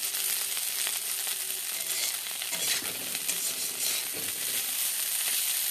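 Rupchanda fish frying in a pan to make crispy fish jhuri, a steady close broadband sizzle running throughout with a few soft stirring scrapes.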